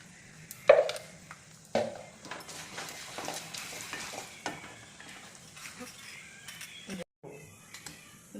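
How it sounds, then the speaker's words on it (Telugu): Curry leaves and a dried red chili fry in a pan while a spoon stirs, making soft scraping strokes and a light sizzle, with a few sharper knocks early on. "కరివేపాకు ఒక ఎండిమిరపకాయ అంటే ఇలా కలుపుకుంటూ ఉండాలండి"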